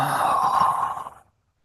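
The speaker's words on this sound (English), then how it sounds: "Big deep breath in. Exhale." A long, deep exhale through the mouth during a guided meditation, one soft breathy sigh lasting about a second before fading into silence.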